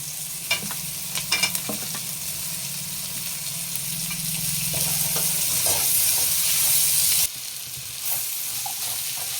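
Onions frying in a pan for a Malnad-style bamboo shoot curry, giving a steady close sizzle with clinks of stirring that grow louder midway and then drop to a softer hiss near the end.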